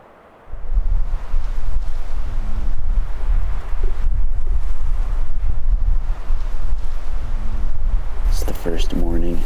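Strong wind blowing across an open Alaskan mountain ridge, roaring steadily and loudly into the microphone almost throughout, with a brief faint voice-like sound near the end.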